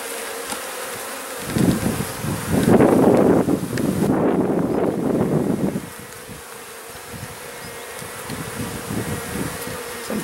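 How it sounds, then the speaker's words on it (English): Honey bees buzz around an open hive frame, a dense close swarm hum that swells loudly in the middle and then settles to a softer drone, with some wind noise on the microphone. "Some very light colored bodied bees here."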